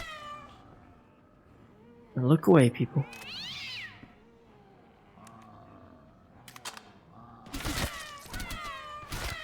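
A cat character in a VRChat zombies game lets out a loud, wavering meow in a short burst, amid game sound effects and someone talking over it.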